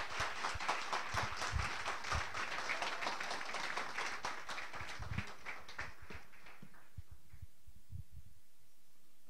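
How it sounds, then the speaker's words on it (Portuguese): A church congregation applauds in a bursty, rhythmic patter of many hands, fairly faint and distant, thinning out and fading toward the end. "Aplaude a Jesus bem forte"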